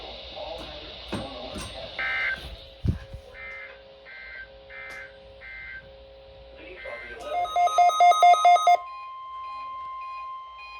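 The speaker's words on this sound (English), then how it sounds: "The preceding signal was a test of the NOAA Weather Radio Station WMG 588 public warning system." NOAA Weather Radio tone alert test from the National Weather Service in Blacksburg, Virginia: a run of repeated electronic data bursts and beeps, then a steady long alert tone, heard over a broadcast voice at the start.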